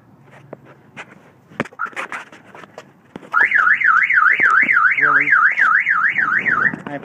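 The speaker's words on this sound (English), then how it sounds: "Car alarm keeps going off on this thing here." A 1998 Volvo V70 XC car alarm blares a loud, close, rising-and-falling electronic siren after a few seconds of scattered clunks and footsteps, sweeping steadily until it cuts off near the end.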